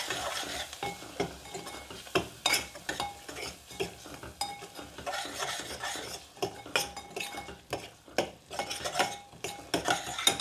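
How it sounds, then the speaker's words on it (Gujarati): Spices being stirred and mixed in a pan, with a spoon scraping and clinking against metal in a quick irregular rhythm over a light sizzle of oil underneath, close up and with no talking. "આપણા મસાલા પણ નખાઈ ગયા અને મિક્સ કરી દઈએ."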